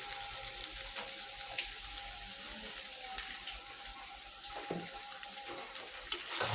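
Water is added to spice masala frying in a pan, producing a soft hissing, bubbling wash of sound with faint sizzle, fairly quiet and steady without speech.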